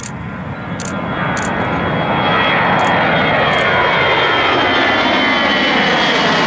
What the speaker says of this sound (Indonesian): Wow, ada pesawat terbang.